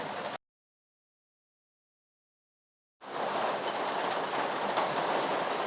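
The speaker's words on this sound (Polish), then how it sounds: "mocniej leje, mocniej leje" Rain pours down as a dense, steady hiss after a brief gap of silence, heavy and close, with no voices.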